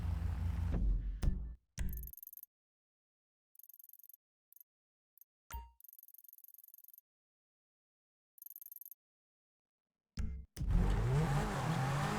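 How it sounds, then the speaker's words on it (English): A car in GTA V speeds down a hill and launches off a stunt jump, with engine and tire noise cutting in and out between silent gaps before a roaring landing near the end. "From up the hill, drive down, hit the jump, clearing the road and landing on the dirt path in the little canyon."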